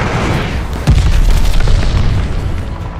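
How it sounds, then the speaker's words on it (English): A glide bomb detonating in Call of Duty: Vanguard multiplayer on Shipment, one deep loud boom with a rumbling low-end tail that lingers for a few seconds. "Friendly, sending a glide bomb."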